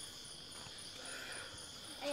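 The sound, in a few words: crickets chirping at night in the hills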